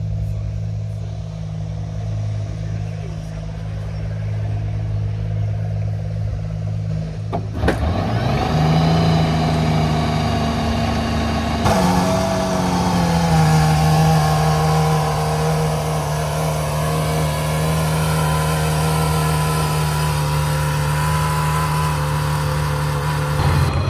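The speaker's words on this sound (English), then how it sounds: "Looks like we're going to get a startup of the Aston Martin Valkyrie." An Aston Martin Valkyrie hypercar at the Heveningham Concours fires up from a low idle. The engine catches abruptly, revs, then settles into a loud, steady, throbbing idle with deep harmonics, close by.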